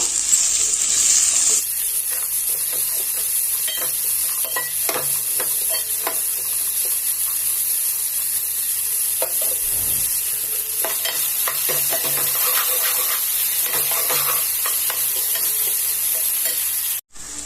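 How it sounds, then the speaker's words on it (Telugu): Chopped vegetables stir-frying in a pan for egg fried rice, a loud continuous sizzle with frequent stirring clatters, close up and without talk. "వెజిటబుల్స్ని ఫ్రై చేసుకోవాలండి ఇప్పుడు."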